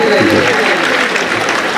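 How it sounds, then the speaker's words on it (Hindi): A crowd at a Hindi-Urdu poetry recital claps loudly in a brief burst, with a voice running over the applause. "एक बार जोरदार तालियां अपने लिए बजाइए"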